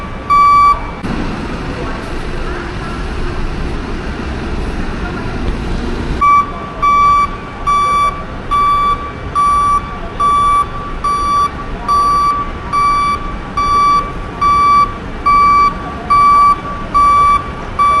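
Repeated electronic reversing beeps from a bus at Kilambakkam bus stand, a steady even rhythm of sharp tones over engine rumble and bus-stand noise, starting partway through and continuing to the end.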